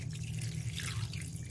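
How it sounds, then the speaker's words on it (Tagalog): Water pours steadily into a cooking pot of dalag fish for an Ilocano dish, a continuous close splashing trickle with no pauses and no talk. "maglalagay na po tayo ng tubig"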